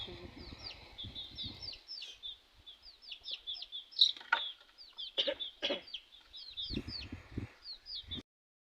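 Chickens cluck and chirp together in rapid bursts through the clip, some calls close and some farther off, alongside faint background voices and rustling.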